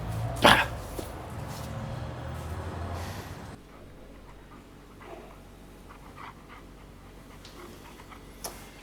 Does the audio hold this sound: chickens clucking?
no